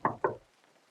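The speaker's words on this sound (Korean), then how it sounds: "창문을 두드린 소리에 문득 깼습니다." Two quick knocks on a car window, close and fairly sharp, followed by quiet.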